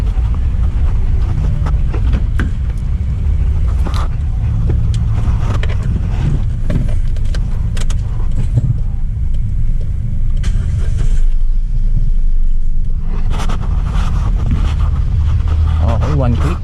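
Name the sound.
Kia Picanto car engine starting with a ReadyGo smart battery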